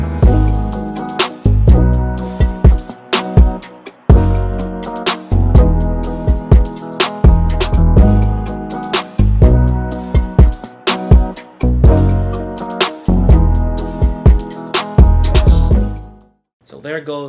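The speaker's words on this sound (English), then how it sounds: "There goes our new bass for the verse" A new bass line plays in the verse of a produced music beat, a loud repeating rhythmic groove with kick drum and a filtered guitar, steady pattern cycling for several bars before cutting off near the end.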